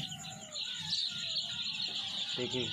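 Farm chicks chirp in thin, high, repeated peeps over soft scuffling as they move about a poultry farm, quiet and close, with a brief low voice near the end.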